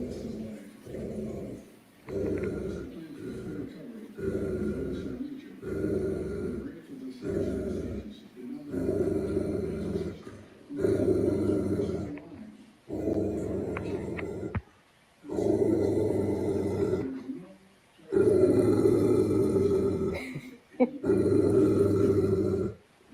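A dog growls and whimpers in repeated bursts, loud and close, with people talking over and between the sounds.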